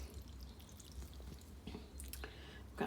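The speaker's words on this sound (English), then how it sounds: "So we'll put some more water in." Water pours from a big watering can onto radish crops, a soft, faint trickling and dripping with a few small splashes toward the end.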